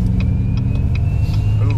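A diesel truck engine rumbles loudly up close while its turbo spools with a rising high whine, and a voice talks over it.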